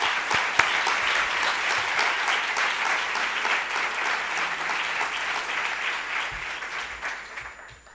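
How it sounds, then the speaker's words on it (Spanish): Audience applause at a lecture on the Holocaust in Spain, a dense steady clapping from a sizeable crowd that carries on for about eight seconds before tapering slightly at the end. "Si os parece, les damos un aplauso en su nombre."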